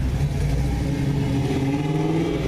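A 2005 Lincoln LS engine revs steadily and loudly at close range, a continuous deep rumble with no pauses.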